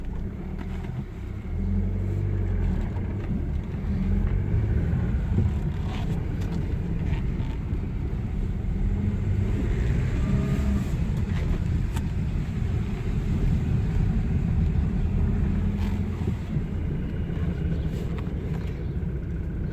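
Car engine running steadily as the car drives slowly around a car park after a repair check, a low continuous hum with slight rises under light wind, no talk.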